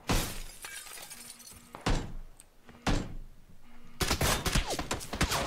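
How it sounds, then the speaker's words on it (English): Gunshots in the PUBG battle royale game, several sharp loud cracks spaced about a second apart, followed by a denser cluster of rapid impacts near the end. "Where is he shooting from?"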